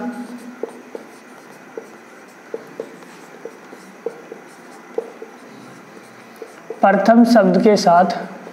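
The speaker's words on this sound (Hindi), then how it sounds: "मैं नोट करके यहाँ लिख भी देता हूँ" Marker or chalk writing on a board during a lesson, a series of short scratchy strokes at an irregular pace, fairly close, followed near the end by a louder burst of rubbing or brisk strokes.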